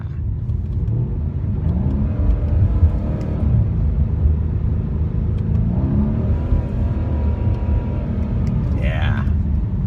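A Mercedes C63 AMG engine rumbles and revs in rising sweeps, loud and close, with a voice talking over it and a brief high whine near the end.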